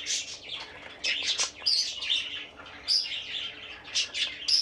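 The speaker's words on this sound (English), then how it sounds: "Oh, bird, you are so loud." A bird chirps loudly and repeatedly close by, a busy run of sharp high tweets in bursts with brief gaps, on a day of on-and-off snow flurries.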